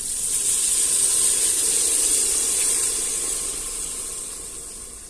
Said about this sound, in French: on va le recouvrir d'eau